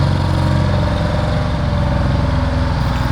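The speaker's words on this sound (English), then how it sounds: "Just hear that Detroit engine." A loud Detroit diesel engine on a prototype wheel dozer runs at high, steady revs, a dense close-up rumble with a rapid pulsing beat and no voices.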